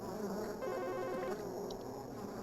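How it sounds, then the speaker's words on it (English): Bees buzz in the background of a phone call in a video game, a steady insect drone mixed with faint ringing tones that runs without a break under the line. "There's bees in the background."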